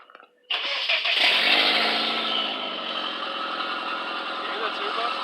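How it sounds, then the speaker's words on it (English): A turbocharged 1.8T engine in a MK4 VW Jetta cranks and catches, then settles into a steady close-up idle with a raspy exhaust note and a faint turbo whine. "You hear that turbo?"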